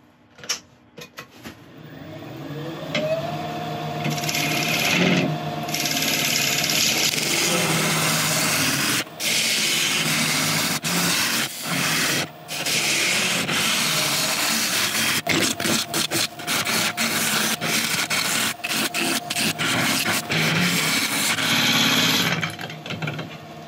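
A wood lathe turning a piece of yew at about 1100 RPM, with a steady motor whir under repeated scraping and rubbing as the tool cuts, starting and stopping at the edges.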